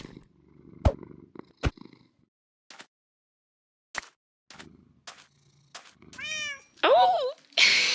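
Minecraft cats meow in high, sliding calls near the end, after scattered clicks and soft game sounds, with a brief purring rumble under them.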